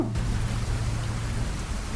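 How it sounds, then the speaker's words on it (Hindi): Heavy rain pours down in a dense, loud, unbroken hiss with a low rumble beneath it. "बरसात बहुत तेज हो गई थी"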